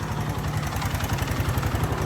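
A motorcycle engine idles steadily right after its battery has been replaced and charged, a close, low, even rumble with a regular pulsing beat running throughout.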